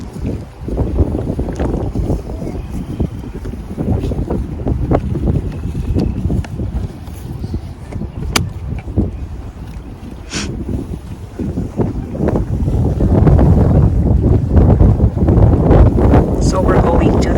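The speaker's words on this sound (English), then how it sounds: "it's too windy" Strong wind blows by a lake at Huron, South Dakota, roaring and buffeting the microphone in loud, continuous gusts that swell toward the end.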